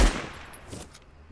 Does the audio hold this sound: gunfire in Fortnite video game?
yes